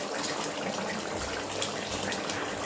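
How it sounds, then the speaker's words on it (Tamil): Thick soaked poppy seed paste poured into a pot of village chicken and potato biryani, giving a steady wet gushing, splashing sound close up that runs continuously for a few seconds. "ஊற வச்சு அரைச்ச இது கசகசா பேஸ்ட்டை ஊற்ற"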